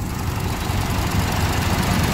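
A 2015 Toyota Innova with the 2.0-litre 1TR engine and manual gearbox idles steadily, a constant low rumble with no break and no talk over it.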